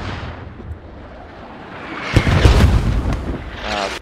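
Friendly mortar shells come down in a Squad match, a low rumbling buildup breaking into heavy booming impacts around the midpoint, loud and dense, then fading into a rolling, gritty tail.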